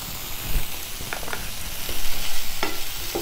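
Keerai greens sauté and wilt in a pan, a loud close sizzle with a few quick clicks and scrapes of a spatula stirring, brief and without talking.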